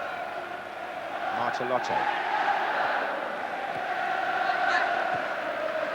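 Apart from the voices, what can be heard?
45,000 football crowd at Wembley backing England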